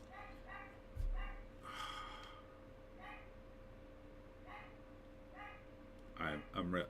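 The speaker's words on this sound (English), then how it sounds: "I don't know why she's barking." A dog barks in short bursts, fairly faint and scattered, with some yips near the end and a low background hum.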